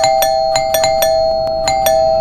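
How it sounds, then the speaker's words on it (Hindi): Doorbell rung over and over in a home, a bright chime repeated about eight times in rapid irregular bursts over a steady tone, loud and close, with no voices. "कौन पागलों की तरह घंटी बजा रहा है?"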